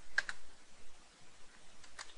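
Faint, brief typing on a computer keyboard, a few light clicks while entering notes into quilt design software, no voices.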